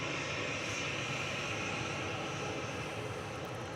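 A Boeing 777 jet airliner moves at Manchester Airport, its engines making a steady, distant broadband roar that holds constant throughout with no talk.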